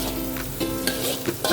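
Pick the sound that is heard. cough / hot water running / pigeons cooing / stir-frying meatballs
stir-frying meatballs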